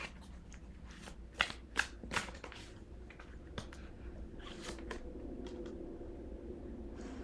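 Tarot cards being shuffled during a pick-a-card reading, with soft close riffling and sharp flicks early on, then a steady low shuffling rustle, heard alone.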